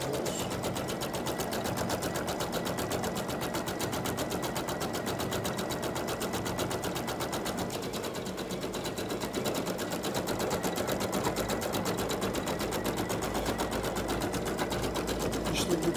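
An embroidery machine stitches a pattern onto a baby t-shirt with a fast, relentless mechanical rattle that stays loud and even from start to finish, with no pauses.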